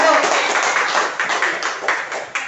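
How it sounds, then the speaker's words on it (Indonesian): A classroom audience at an elementary school claps for a student group after their presentation, a dense burst of applause lasting a couple of seconds with no voices over it. "Tepuk tangan untuk kelompok 1."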